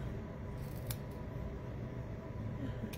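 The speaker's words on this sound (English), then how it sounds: "Now, I did overhang here, so let's see if I can cut." Scissors snip through an overhanging strip of ribbon at the edge of a handmade card, giving a couple of brief, close cuts over a steady low room hum.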